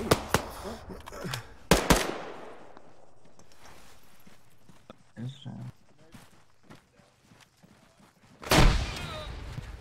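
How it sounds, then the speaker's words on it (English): Grenade blast in a military shooter game, a sharp loud burst near the end following scattered earlier gunfire bangs, with players talking throughout. "That was a grenade."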